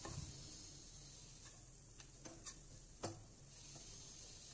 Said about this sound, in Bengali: ভেজিটেবলের সাথে ম্যাগিটা খুব ভালোভাবে মিশিয়ে নেব।